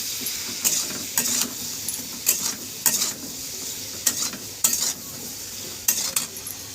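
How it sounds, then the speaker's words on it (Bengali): Ridge gourd and potato pieces fry in oil with a continuous low sizzle, broken by a series of sharp spatula scrapes and stirs at irregular intervals. The sounds are close, with no talking. "ঝিঙে ও আলুটাকে ভেজে নেব তেলের মধ্যে।"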